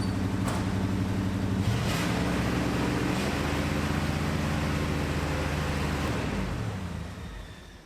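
Engine of an old 4x4 Ford farm truck, abandoned for 32 years, with a sticky throttle, running loud and close with a sustained high rev that holds, wavers, then drops off at the end.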